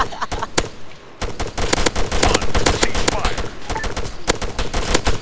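Dense, loud gunfire from the military shooter Arma 3, rapid automatic bursts and single shots overlapping nearly nonstop after a brief lull, with players talking over it.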